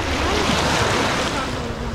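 Surf rolling in at a beach in Pattaya, Thailand, heard as a steady, dense wash of breaking waves with some wind rumble, continuous and fairly loud, with no talk over it.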